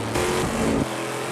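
An aluminum-block, titanium-valve V8 race car, pushed hard in endurance racing at Road America, roars loud and close with a rising rev that then drops back to a steady engine drone.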